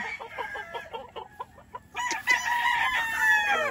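Chickens on a poultry farm cluck in a quick series of short calls, then a rooster crows loudly and at length, close by with no speech.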